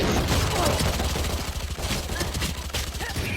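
Rapid gunfire bursts from a round of the tactical shooter Valorant crackle densely and continuously, loud and close, with a voice faintly present underneath.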